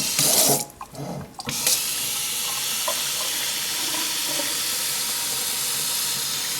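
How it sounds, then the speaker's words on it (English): Warm tap water pours in a steady rushing stream over a K&N air filter, briefly interrupted near the start as the filter passes through the flow, then continues evenly. "Begin rinsing the filter from the clean side through to the dirty side with warm water."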